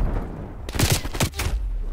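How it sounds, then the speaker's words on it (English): A grenade explodes in a multiplayer shooter video game, a loud burst with a rumbling tail, followed by another blast and scattered gunfire. "Throwing grenade."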